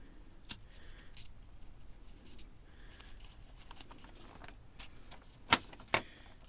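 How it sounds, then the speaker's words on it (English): An X-Acto blade slices through a paper money prop resting on scrap foam, sharp scratchy cuts and ticks scattered over a quiet background, strongest near the end, no talking. "grabbing my X-Acto blade and just getting a clean cut right there"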